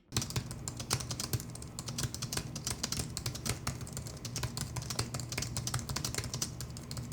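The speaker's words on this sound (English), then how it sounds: "if you are typing though, these keys are really not that loud" Rapid keystrokes clatter on a computer keyboard, a steady stream of light plastic clicks close by with no voices.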